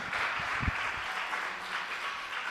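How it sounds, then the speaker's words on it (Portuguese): A seminar audience claps briefly, a soft spread of applause heard from a distance in a large room, fairly faint and fading quickly. "Palmas para o André"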